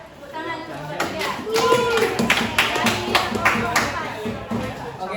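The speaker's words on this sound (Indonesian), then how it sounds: "Tepuk tangan kelompok" Classroom applause for a student group after their presentation, a burst of clapping mixed with chatter and voices, moderately loud and close throughout.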